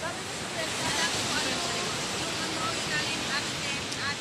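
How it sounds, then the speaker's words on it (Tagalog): Strong sea waves roll and crash continuously at a beach resort in Morong, Bataan, a steady loud wash of surf filling the whole stretch. "Ang lakas na ng alon."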